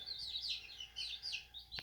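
Chickens chirping in coops on a homestead, a quiet series of high repeated peeps and tweets in an uneven rhythm, with a short knock just before the end.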